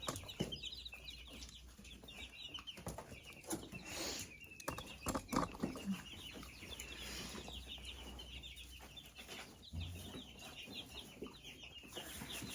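Meat bird chickens in a cage cluck faintly and keep up a low, scattered chatter, with a few brief rustles and wing movements against a quiet background.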